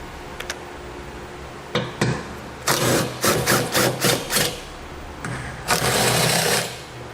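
A 12mm socket wrench ratchets in short, loud bursts of rapid clicks close by while bolts come out from under a 2007 Infiniti G35 during a trailer hitch install, with quieter pauses between turns.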